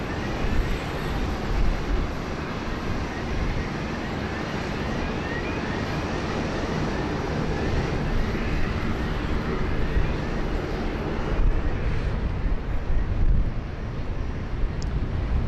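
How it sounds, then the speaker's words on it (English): A Hainan Airlines Boeing 787 Dreamliner roars steadily on approach to runway 16 right at Sydney Airport, a sustained broad jet engine rumble mixed with wind buffeting the microphone. "Our next arrival is one of the stars of the afternoon, the Hainan Airlines Dreamer."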